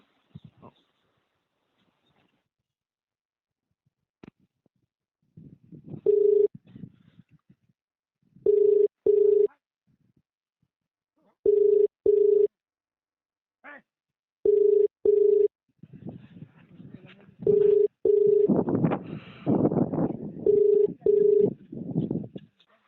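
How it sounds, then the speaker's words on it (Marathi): A telephone call is placed over a speakerphone, and a repeated ringback tone sounds in evenly spaced pairs of beeps, with a few muffled voices and rustling between the rings. "बर लावतो फोन मी चालू ठेवा"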